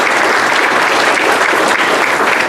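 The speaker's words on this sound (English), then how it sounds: "So give yourself a big round of applause." Loud, dense audience applause filling a room at a county chamber of commerce community breakfast, continuous, even clapping from a large crowd with no voices over it.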